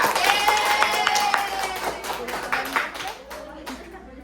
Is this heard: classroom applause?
yes